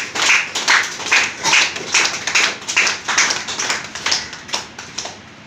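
A crowd at a birthday celebration clapping together, a loud, steady patter of many hands sustained throughout without talk.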